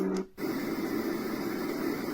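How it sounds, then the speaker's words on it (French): A steady broadband whoosh of fan noise from a portable baby white noise machine fills the clip, with a brief low tone and a short gap at the start, then even and constant. "Les bruits de ventilo."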